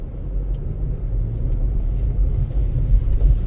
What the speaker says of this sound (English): driving in my neighborhood